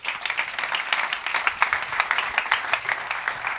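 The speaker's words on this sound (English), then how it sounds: "please big applause and welcome to the stage" A conference audience gives a loud, sustained round of applause as a guest speaker is welcomed to the stage, a dense wash of many hands clapping evenly throughout.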